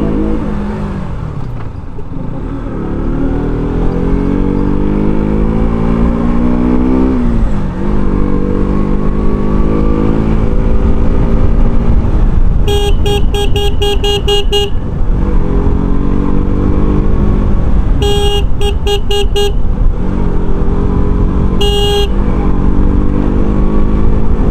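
A motorcycle rides along a road from Kolkata to Ranaghat, its engine droning loudly and climbing and falling in pitch through gear changes, with bursts of rapid, pulsing horn beeps partway through.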